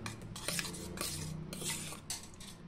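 A metal spoon mixes tomato curd chutney in a bowl, with rhythmic clinks and scrapes against the dish that are close and fairly quiet, and no voices.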